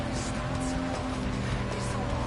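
BMW race car fitted with a rear spoiler in Gran Turismo 7, braking and downshifting: a steady, loud engine drone with a faint tire squeal, continuous throughout with no talking.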